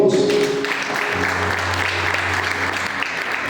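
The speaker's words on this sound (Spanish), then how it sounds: "Dale un aplauso a Dios." A church congregation bursts into sustained applause during a Spanish-language sermon, a thick wash of many hands clapping with a low held organ or keyboard tone underneath.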